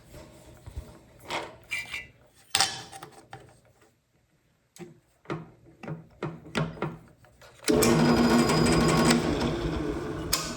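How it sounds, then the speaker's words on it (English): Drill running through titanium knife scales for a CIVIVI Elementum, with bursts of mechanical whirring separated by pauses, then a loud, steady sustained drilling run near the end. "I'm using this one to through drill the holes"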